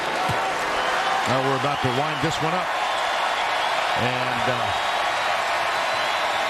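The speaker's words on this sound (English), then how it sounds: "standing O for the crowd" Kentucky basketball arena crowd giving a standing ovation, a dense, loud, continuous roar of cheering and applause under a commentator's voice.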